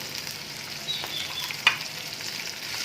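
Cashews, pistachios and other dry fruits fry over low heat in a pan for laddus, with a soft, steady sizzle throughout and one small sharp crackle partway through. No voices are present.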